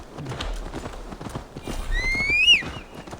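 A horse in Assassin's Creed Valhalla clops its hooves in an uneven rhythm, then lets out a loud, shrill whinny that rises and falls near the end.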